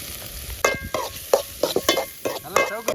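Onion, tomato, ginger and garlic fry in sesame oil in a pan, a steady sizzle broken by several close scraping stirs of a spoon.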